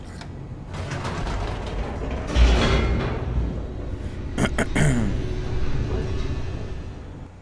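An elevator descends in the video game The Stanley Parable, with a continuous mechanical rumble and grinding hum, a louder clunk partway through and a few sharp metallic clicks near the middle, close and sustained.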